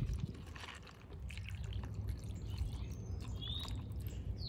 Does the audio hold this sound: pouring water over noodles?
yes